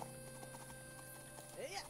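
Horse hooves clip-clop at a steady trot across the grassland in the gaucho game, quiet and rhythmic under a soft ambient tone, with a brief whinny-like rise near the end.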